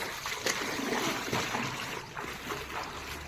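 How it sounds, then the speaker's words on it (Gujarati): Rainwater flowing and splashing over a concrete clothes-washing platform after heavy rain in Bagdana, a steady close wash of running water with scattered splashes. "ઓલો કપડા ધોવાનો ઓટલો છે ને એની ઉપર પાણી વયું જાય"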